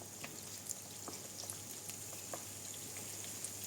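Steady crackling sizzle of engañamaridos, small Spanish sweets, frying in hot oil in a pan, with scattered small pops over a continuous hiss, fairly quiet and close.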